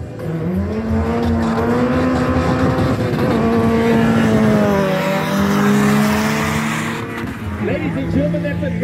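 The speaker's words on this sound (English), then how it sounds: "that's a normally aspirated Opel Corsa 16 valve on throttle" A naturally aspirated Opel Corsa 16-valve races on full throttle in a drag run against a diesel. Its loud, close engine note holds and climbs steadily in pitch, dips briefly, then rises again near the end.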